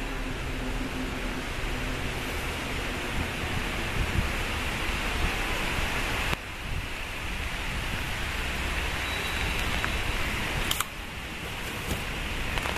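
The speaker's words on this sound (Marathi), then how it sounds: "पाऊस आलेला आहे," Steady rain falling outdoors around old carved hero stones in a Borivali village, Mumbai, a soft even hiss filling the whole stretch at low level with no talk and only faint shifts in texture.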